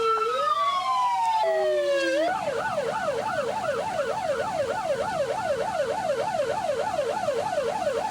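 A loud 1985 police car siren, leading a police escort, wails continuously, first in long rising and falling sweeps, then switching to a rapid warbling yelp that repeats steadily.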